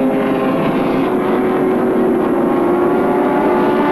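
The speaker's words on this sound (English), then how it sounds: "McLeod's fitted a rocket engine to the Mazda RX-7 for this event" A Mazda RX-7 touring car with a rotary engine races at Oran Park in the 1984 ATCC, giving a loud, steady, high-pitched engine drone that holds throughout without pause.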